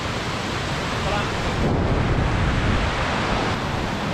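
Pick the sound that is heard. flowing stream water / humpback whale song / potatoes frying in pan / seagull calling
flowing stream water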